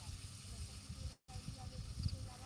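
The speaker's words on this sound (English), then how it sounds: "It's just like an overpressure thing, I think, of steam." Steam hissing from an overpressure release near a live broadcast position overlooking Gaza: a steady, broad, continuous hiss with one brief dropout, low rumble underneath.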